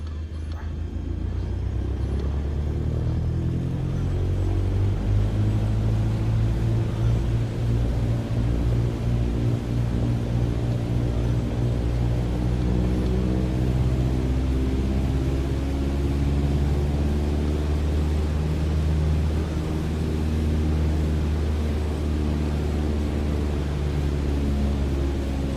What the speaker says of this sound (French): je vais faire les essais moteurs